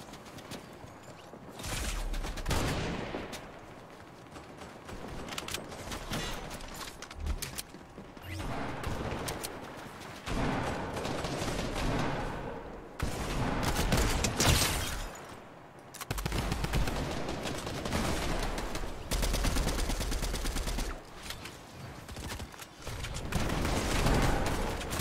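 Gunfire crackles through a Fortnite match, with bursts of shots and booming impacts recurring across a loud, dense stretch of game sound, broken by brief quieter gaps and no speech.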